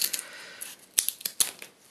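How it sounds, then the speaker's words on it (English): Sharp scissors snip through paper in a quick series of crisp cuts, a few louder closing snaps among lighter rustles, close by with no voices. "you can actually cut them if you've got quite sharp scissors"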